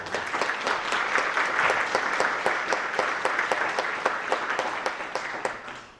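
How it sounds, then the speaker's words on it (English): An audience applauds at a high school National Honor Society induction ceremony, a steady wash of many hands clapping from start to finish at moderate volume, with a few sharper individual claps standing out. "Give her a round of applause."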